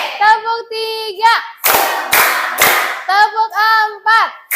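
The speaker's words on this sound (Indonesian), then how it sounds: "kita tepuk konsentrasi dulu ya" Children in an Indonesian classroom clap in short, rhythmic bursts of a concentration clapping routine, sharp and close, alternating with their chanted voices.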